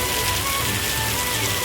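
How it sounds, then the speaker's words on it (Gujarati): Heavy, steady rain drums on surfaces in a village during a prolonged downpour, a dense, loud, unbroken wash of drops with no speech. "હજુ વરસાદ 1 કલાકથી સતત ચાલુ છે"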